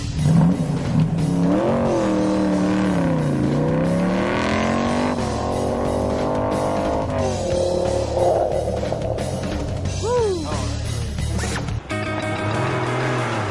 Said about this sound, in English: the Z2Z race, which allows you to hit 200 miles an hour before hauling it back to a stop